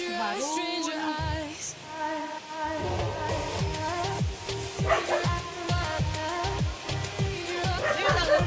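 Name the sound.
small dogs barking in a backyard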